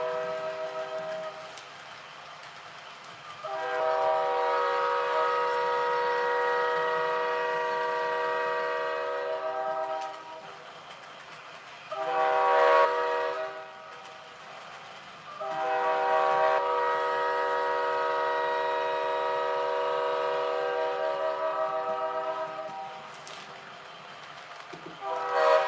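A Nathan K5H/K5HL multi-chime train horn sounds in three loud, sustained blasts: a long one, a short one and another long one, with the player working the quill, alone and clear with no talk.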